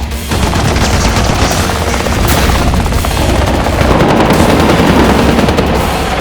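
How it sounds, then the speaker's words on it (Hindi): Cartoon battle of an alien attack: rapid machine-gun fire and missile blasts roar continuously and loudly with booming impacts, a dense unbroken barrage with no voices. "अरे अपने को उनकी मिसाइल लग गई।"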